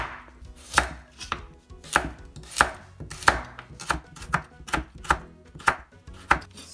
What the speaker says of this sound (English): I'm just gonna make thin slices like this